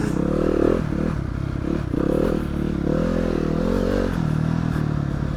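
A Yamaha YZ250F dirt bike cruises along at an easy pace, its engine a steady, loud drone with small shifts in pitch as the throttle changes, close to the rider throughout.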